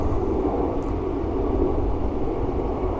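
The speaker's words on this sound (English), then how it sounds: "Wow, look at the size of that plane." A large airplane passes overhead outdoors, a steady broad roar of jet noise holding at a constant level throughout.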